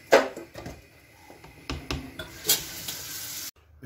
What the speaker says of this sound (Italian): Adesso fiamma bassa. E facciamo cucinare per bene.